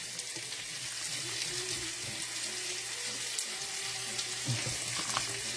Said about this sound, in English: just some breadfruit I'm boiling up here